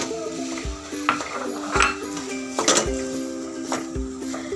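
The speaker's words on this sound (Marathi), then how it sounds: "गुळ वितळून घेऊया।" Jaggery melts in a hot kadai while a spoon scrapes and clinks against the metal pan in repeated strokes, close and fairly loud, with a faint sizzle beneath and no speech.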